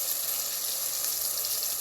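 Food deep-frying in hot oil near the end of cooking gives a dense, steady sizzle with bright crackling hiss, close and continuous with no speech.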